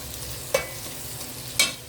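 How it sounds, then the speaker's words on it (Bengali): Whole spices (garam masala, bay leaf, cardamom, clove and cinnamon) sizzle steadily in hot oil in a pan, with two quick scraping stirs breaking through the continuous frying hiss. "এখন এর মধ্যে আমি একটু গরম মশলা, তেজপাতা, এলাচ, লং, দারুচিনি দিয়ে দিব।"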